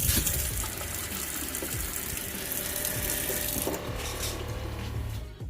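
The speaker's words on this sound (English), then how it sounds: "let's see if we have any water flow" Water gushes and splashes steadily from a newly installed RV water pump, a continuous close rushing flow that thins and softens near the end.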